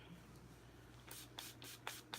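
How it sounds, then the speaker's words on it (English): Several short, quiet spritzes from a spray bottle dampen a beauty blender makeup sponge, following some faint rubbing, with four or five bursts close together at the end. "I'm gonna use my beauty blender and I'm going to spray it"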